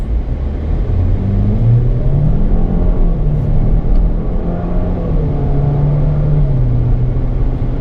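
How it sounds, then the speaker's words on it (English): A 2024 GMC Terrain SLT AWD accelerating from a stop, its engine whining and rising in pitch under a steady, loud road rumble with no talking. "you can just hear that motor whining loudly when you take off"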